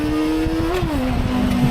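A Benda LFC 700 motorcycle engine held high in the revs drones loud and close with a steady, slightly rough tone that dips briefly in pitch, with no voices.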